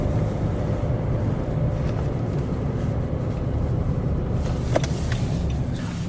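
Steady, loud engine and road rumble fill the inside of a moving car as it drives slowly and makes a multi-point turn beside an airfield runway, with a few faint clicks near the end.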